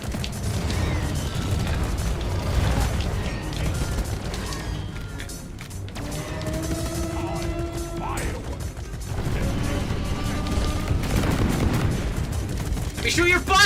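Rapid gunfire in Deep Rock Galactic, with clattering mechanical bursts and crashes in a busy mix, and a voice talking over it at times.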